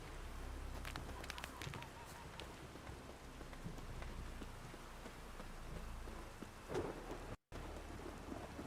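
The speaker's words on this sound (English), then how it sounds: "Raining again." Steady rain falls in The Witcher 3 with low rumbles of thunder beneath it, a constant wash of patter in the background interrupted by a brief dropout near the end.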